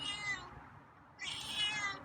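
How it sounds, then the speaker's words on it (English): A feral cat meows twice, two drawn-out cries separated by a short pause, close by and fairly quiet. "got some meows for me tonight"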